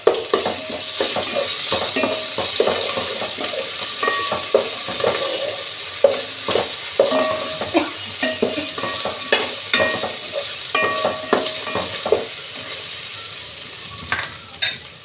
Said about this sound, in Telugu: అల్లం వెల్లుల్లి పేస్ట్ వేసుకొని బాగా కలుపుకోవాలి